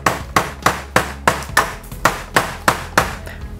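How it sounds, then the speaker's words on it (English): A half-formed DIY hammer cast from gallium strikes a nail into a wooden letter, giving about ten sharp, evenly spaced taps that ring briefly and close by. "Let's see if we can nail this in."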